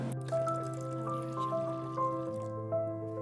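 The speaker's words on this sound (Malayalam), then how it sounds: "ഞാൻ ഇനി 1 ഗ്ലാസ് വെള്ളം കൂടിയിട്ട് ഒഴിക്കുകയാണ് കേട്ടോ." A glass of water pours into blended raw mango, a soft trickle with a ringing tone that climbs in pitch as the vessel fills, quiet and close, with a few drips near the end.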